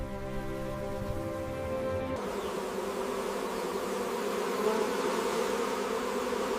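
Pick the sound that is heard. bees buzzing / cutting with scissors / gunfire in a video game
bees buzzing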